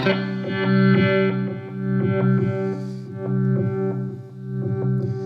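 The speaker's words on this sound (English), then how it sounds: "you can hear that very rhythmic effect" Guitar through a Chase Bliss Audio Wombtone MKII phaser pedal with wave-form modulation: steady held chords pulse in a rhythmic, evenly repeating sweep, up close and alone.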